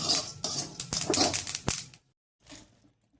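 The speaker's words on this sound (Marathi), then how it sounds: "त्यांना कढईमध्ये चांगलं फिरवून घ्यायचं." Peanuts with coriander seeds, cumin and other spices stirred in a kadhai, giving dry rattling, crunching scrapes in quick bursts close up, then a short pause and one more softer stir.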